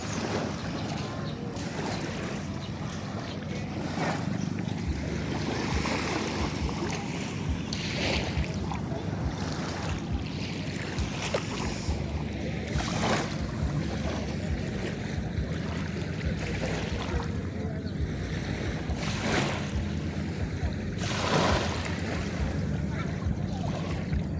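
Gentle sea waves wash steadily around a boat at sunrise on an outing, a continuous soft surf mixed with wind buffeting the microphone and a faint murmur of voices.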